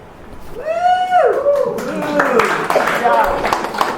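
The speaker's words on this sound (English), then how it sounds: "we'll hear some applause or other encouragement" At a live show in an American Legion hall, a rising and falling whistle-like vocal glide is followed by a scattered burst of audience clapping mixed with voices.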